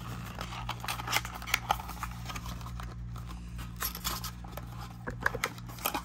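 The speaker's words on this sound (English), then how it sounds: "let's put together one of these boxes" A cardboard storage box for trading cards being folded and put together by hand, with close, dry scraping, creasing and tapping sounds in irregular bursts over a low steady hum.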